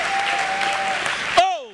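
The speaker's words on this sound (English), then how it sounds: "Let's stand to our feet, clap our hands, and shout yes to the Lord." Church congregation at a family camp service clapping hands steadily and shouting praise together, a dense, loud wash of applause and voices that cuts off abruptly near the end, leaving a short whistle-like tone.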